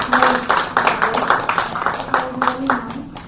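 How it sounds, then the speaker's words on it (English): Audience at a women's economic forum session clapping, loud bursts of applause coming in a rough rhythmic pattern with some voices mixed in underneath. "I think again a big applause."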